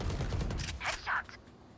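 Gunfire crackles in a first-person shooter video game, a few quick bursts of shots at moderate volume, with a voice briefly heard around them.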